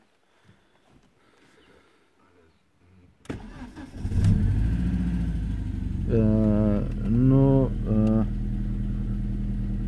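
Gold BMW 316i Sport Coupe compact with a Euro 4 petrol engine being started: a quiet stretch with a brief word, then the starter cranks, the engine catches and revs up and down in a few close, loud bursts before settling into a steady idle.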